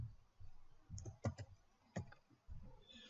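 Quiet computer keyboard typing, with a few scattered, irregular keystroke clicks set against faint background noise.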